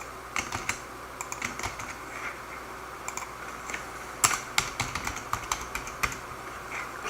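Irregular bursts of key clicks from someone typing a password on a computer keyboard, fairly quiet and close, with short pauses between runs of keystrokes and no voices.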